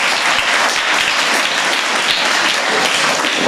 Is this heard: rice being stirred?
no